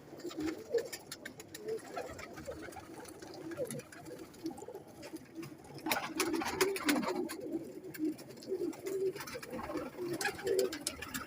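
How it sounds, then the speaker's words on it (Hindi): Zeera pigeons, a Jharkan-eyed breeder bird among them, coo softly in low murmuring phrases, with light pattering and rustling around them and a few louder stretches partway through. "ये जीरा कबूतर है सेठ वाला"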